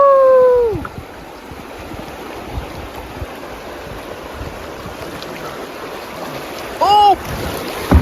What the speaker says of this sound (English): We found some small rapids.